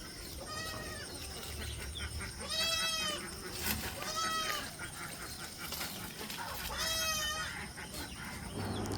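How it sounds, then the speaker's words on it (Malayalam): Goats bleat at a livestock sale where a five-month-old crossbreed buck kid is offered, with several clear, fairly close calls spaced across the clip over a busy background din. "ഏകദേശം ഒരു 5 മാസം പ്രായമായ നല്ലൊരു ക്രോസ് ബ്രീഡ് മുട്ടൻകുട്ടി."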